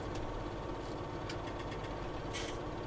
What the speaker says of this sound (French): Je vais couper le tracteur.